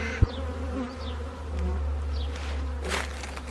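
A swarm of honeybees pours out of a beehive on a late April afternoon, filling the air with a dense, steady buzz close by. A single sharp knock sounds near the start.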